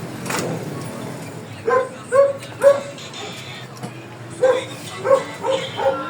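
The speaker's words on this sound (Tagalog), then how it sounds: "ingay ng aso." A dog barks repeatedly in short bursts nearby, yipping several times in two clusters, with faint background noise in between.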